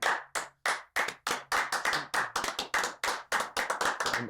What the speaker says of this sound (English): I need everybody clapping.